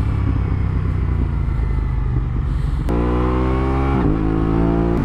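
A 2021 Aprilia RS 660 motorcycle accelerates onto a highway, its engine note climbing loudly through the gears with a sharp shift partway through, heard close from the rider's position.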